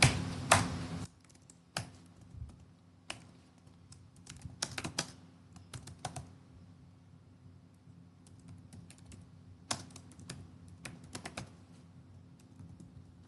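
Someone types a command on a computer keyboard, scattered clicky keystrokes in short bursts with pauses between, quiet and close, with no voices.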